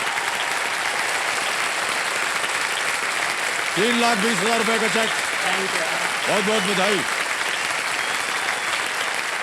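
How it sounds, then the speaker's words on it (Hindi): A studio audience on Kaun Banega Crorepati claps continuously in a bright, even wash of applause while the host speaks over it. "118 तालियां बजती रहे इनके लिए"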